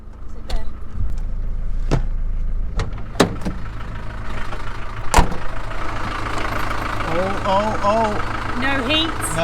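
Old camper van engine running during a test drive, a steady low hum with sharp knocks and rattles, and a person talking over it.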